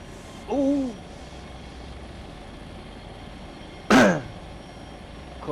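Two short coughs or throat clearings, one faint near the start and a louder burst a few seconds later, over a steady low background drone.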